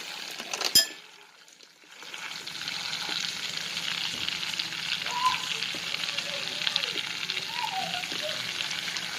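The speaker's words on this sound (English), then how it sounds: "I'm going to add some garlic to it." Garlic frying in a pot for a seafood boil, a steady close sizzle that begins after a brief clink and short pause and then carries on evenly.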